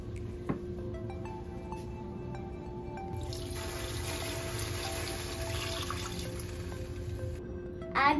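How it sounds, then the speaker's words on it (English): Water splashes and trickles steadily into a pot of lightly browned pork for sinigang for several seconds amid a low background hum, louder in the middle stretch. "you can add water."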